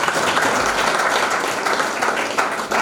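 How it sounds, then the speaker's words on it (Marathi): Crowd at a birthday gathering clapping loudly in congratulation, a short, dense, close burst of applause that stays steady throughout and cuts off abruptly. "टाळ्या वाजवा."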